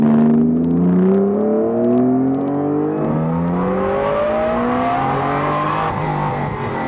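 A supercharged NSX sports car drives through canyon roads, its engine loud and close, revving and climbing steadily in pitch as it accelerates through the gears.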